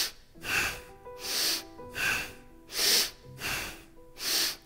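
Slow, heavy breaths during a yoga wood chopper exercise, six rhythmic breathy pulses close to the microphone, evenly spaced, with no speech.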